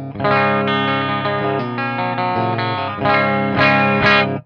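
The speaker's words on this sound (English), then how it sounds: "Let's go to a clean channel so you guys can hear the pickups." Les Paul copy electric guitar through a clean amp channel playing sustained chords and single notes with a full, ringing tone, steady and fairly loud with no voices.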